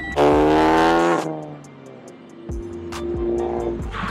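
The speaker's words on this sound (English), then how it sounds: "you know they got burnouts too? Burnout!" A car does a burnout at a Gatlinburg car show, a loud engine roar with squealing tires up close that drops away, then revs and screeches again.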